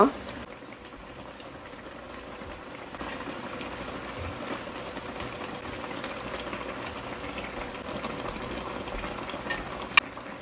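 A pot of Malabar spinach with hilsa fish simmers in a steady, low bubbling hiss that stays even and fairly faint throughout, with one brief sharper click near the end.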